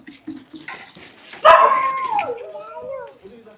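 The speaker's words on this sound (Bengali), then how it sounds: "আরো ডগি আসছে।" Several stray dogs on a street bark loudly and close in a sudden burst, followed by whining yips, with people talking before and around the barking.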